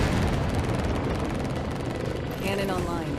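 Rotor noise of a helicopter in the VR game Warplanes 3 Air Corp, a dense continuous whir that stays loud throughout, with a brief tonal effect near the end.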